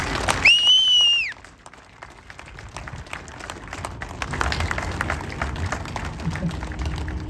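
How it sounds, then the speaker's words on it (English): After a sharp whistle-like tone at the start, a crowd gives a round of applause for Tom, a scattered clapping that builds to a steady, moderately loud patter while voices murmur. "But just give old Tom a round of applause here"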